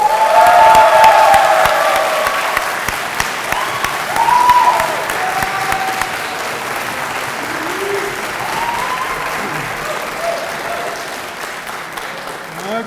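Sustained audience applause fills a medical school white coat ceremony hall, a broad wash of clapping at a fairly loud level with a few brief voices and cheers rising over it.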